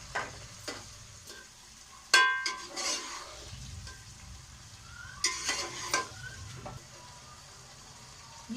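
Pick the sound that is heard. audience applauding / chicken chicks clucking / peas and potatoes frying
peas and potatoes frying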